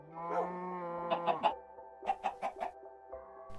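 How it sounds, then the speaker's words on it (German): Farm animals in the video game Minecraft, with a cow mooing in a drawn-out tone followed by bursts of clucking from chickens, moderately quiet with no talking. "da ist eine Kuh"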